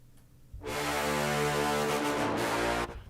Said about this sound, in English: The Monster Low Brass sounds like this.